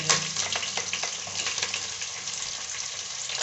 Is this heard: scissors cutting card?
no